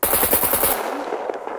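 Automatic gunfire in the Scum survival video game, a rapid close burst of shots that stops abruptly and leaves faint game ambience behind.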